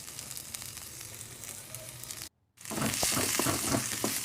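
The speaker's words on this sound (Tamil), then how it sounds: "ஒரு கடாயில் எண்ணெய் ஊற்றி வெங்காயம், மிளகாய், இஞ்சி இதெல்லாம் சேர்த்து நல்லா வதக்கிக்கலாம்." Onion, green chili and ginger sizzle and fry in hot oil in a kadai, a steady close crackle that cuts out for a moment and then returns louder and brighter.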